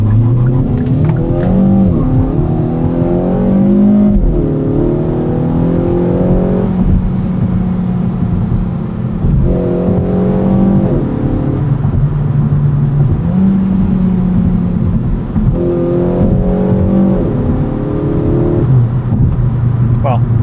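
A 2024 Kia Forte GT with a dual-clutch transmission pulls away from a stop, its engine note rising in repeated climbs with gear shifts in between, heard from inside the cabin under steady road and engine hum.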